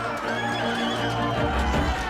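Horses pulling a Tsar's coach whinny amid a dense, noisy crowd scene, with faint hoof clatter mixed into the busy background of an angry mob.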